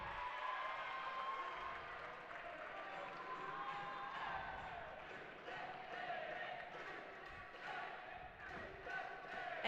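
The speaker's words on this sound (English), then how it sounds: "And the crowd is already excited." Excited crowd noise fills a dodgeball arena before the bronze medal match at the world championships, a dense, steady roar of cheers and shouts with scattered claps, loud and continuous throughout.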